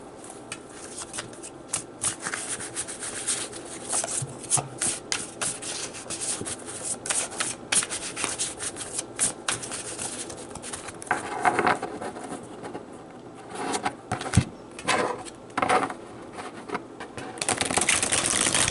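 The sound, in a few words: shuffling thin tarot cards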